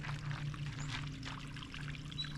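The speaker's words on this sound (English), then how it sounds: "Little waterfall." A little waterfall at the Hassayampa River Preserve pours water in a soft, steady trickle, fairly faint, with a low hum underneath.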